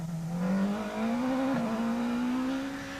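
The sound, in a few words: Monster Energy Ford Fiesta S2000 rally car on stage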